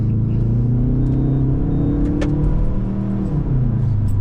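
A 2008 Subaru Legacy GT with automatic transmission in sport mode, engine note rising and falling as it accelerates, heard loud from inside the car with a steady low rumble throughout.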